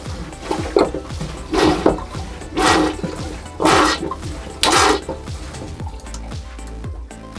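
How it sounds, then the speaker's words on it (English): A marine toilet hand pump on a Bavaria C50 sailing yacht works in repeated strokes, each a loud gushing, sloshing whoosh of water at a steady rhythm, with creaks and clunks between strokes. "Pump the toilet between 15 and 20 times."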